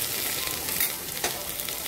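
Spices sizzling in hot oil in a pan with pumpkin, a steady, close hiss of frying with faint crackles throughout and no voices.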